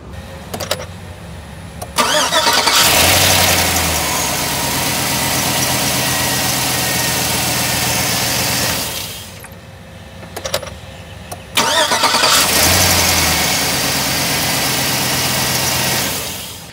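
A car engine with a freshly repaired starter cranks briefly and catches quickly, settling into a strong, steady idle; after shutting off it is started again just as fast, loud and close throughout.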